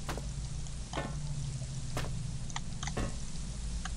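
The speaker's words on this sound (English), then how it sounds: "That's the sound of acid." Acid in the horror game Penumbra gives a constant frying sizzle, steady and fairly close, with faint periodic ticks and drips breaking through the hiss.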